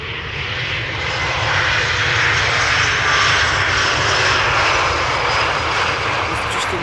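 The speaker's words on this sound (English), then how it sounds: "With just a little bit of reverse thrust. And otherwise, stereotypical KLM landing." Loud, steady roar of a KLM Embraer 195-E2 jet landing at Amsterdam Schiphol with a light application of reverse thrust, a broad sustained engine rush holding for several seconds close by.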